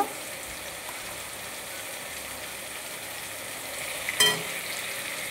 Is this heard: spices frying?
yes